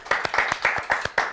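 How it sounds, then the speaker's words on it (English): A round of applause from a small crowd at a football fan celebration, brisk clapping with sharp rhythmic hand claps heard close and alone. "Can we have a round of applause?"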